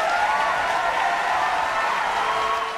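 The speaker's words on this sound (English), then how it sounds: "So I think we should have a round of applause for that." An audience at an online talk applauds steadily throughout, a dense, even wash of clapping at moderate level with no speech over it.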